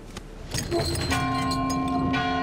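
A large bell in the Valiant Hearts video game drops and rings out, a loud clang at about one second followed by a sustained, steady metallic tone that hangs on with other game sounds underneath.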